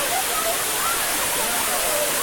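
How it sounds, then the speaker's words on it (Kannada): Sirimane waterfall near Sringeri in Kigga, Chikmagaluru, a rocky cascade about 30 feet high, gives a steady, dense roar of falling water that fills the whole short stretch without pause. "ಇದೇ ನಮ್ಮ ಸಿರಿಮನೆ ಜಲಪಾತ."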